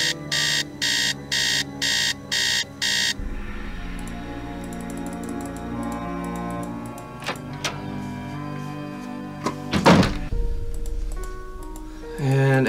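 An alarm in the Nancy Drew: Message in a Haunted Mansion game sounds as five regular electronic beeping bursts, then gives way to a sustained musical tone with scattered clicks and a sharper burst near the end.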